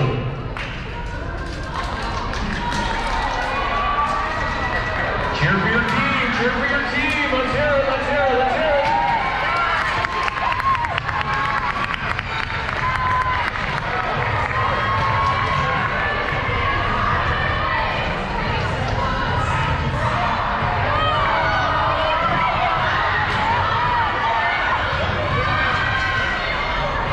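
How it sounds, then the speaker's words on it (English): A school pep rally crowd cheers, shouts and claps continuously in a large echoing space, with thumping and stamping throughout and voices mixed into the dense roar. "Cheer for your team!"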